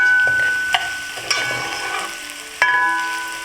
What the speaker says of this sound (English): Now add the hot pepper and pimento pepper if you're using. We'll cook until the onion is nice golden brown.